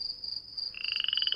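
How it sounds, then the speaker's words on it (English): Frogs croak at night in a Malaysian rainforest near Mulu, with a steady high insect whine throughout. A second, pulsing chorus of croaks joins partway through and repeats in a quick, even rhythm. "Frogs and cicadas create a cacophony of sounds."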